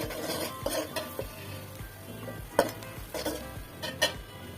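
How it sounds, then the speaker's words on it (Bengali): Onions frying in mustard oil for masoor-dal khichuri, with a spoon clinking and scraping against the pot in irregular strokes over a faint sizzle, close and fairly quiet. "পেঁয়াজ একটু বাদামি কালার করে ভেজে নেব।"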